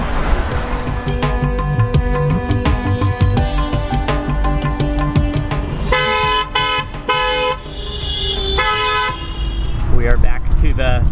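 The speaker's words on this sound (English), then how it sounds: "We are back to the symphony of honking horns back in the city." Several car horns honk repeatedly in busy traffic, short and long toots overlapping amid engine noise, with people talking underneath.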